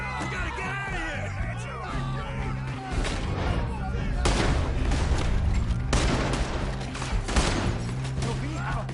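Gunfire in a Red Dead Redemption 2 shootout, repeated bursts and sharp shots rising over a busy battle din, with yelling and game voices mixed throughout.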